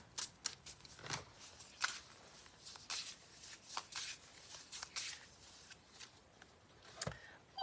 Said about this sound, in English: These cards are really jumpy. Either that or I'm like forcefully shuffling.